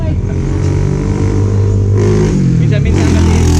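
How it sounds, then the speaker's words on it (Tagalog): A motorcycle passes by fast, a loud close engine roar that swells and shifts pitch downward as it goes past, dominating the short stretch. "Minsan kasi ang ingay, ang bilis naman ng motor na yun no?"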